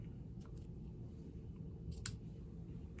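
Scissors trim the edge of a paper craft bow for a snowflake card, making a few faint, quick snips against a quiet background, with a clearer cut near the end.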